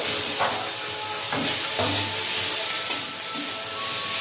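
Spice paste with tomato fries in a pan for a spicy snakehead fish curry, hissing steadily up close while a few soft stirring scrapes break through, with no speech.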